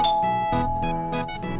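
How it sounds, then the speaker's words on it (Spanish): A doorbell in a Roblox game rings with a chiming ding-dong sequence of bright tones, loud and alone. "A ver, toquemos el timbre."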